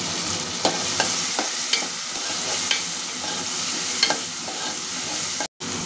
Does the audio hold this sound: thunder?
no